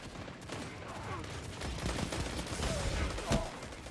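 Suros Regime auto rifle firing in Destiny 2 PvP, a steady rapid burst of game gunfire at moderate level with one sharper report near the end, under light game noise.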